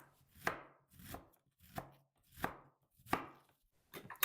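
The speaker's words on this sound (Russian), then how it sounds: "Беру четверть средней капусты и тонко шинкую соломкой." A knife finely shreds a quarter head of cabbage into thin strips on a board: six crisp, evenly spaced chopping strokes, close and clear, with nothing else heard.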